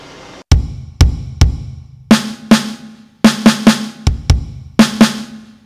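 Electronic drum hits from a NUX DM-7X kit on the Pop 1 preset play a short pattern of kick and snare strokes with crisp attacks and quick decays, loud and close with gaps between hits.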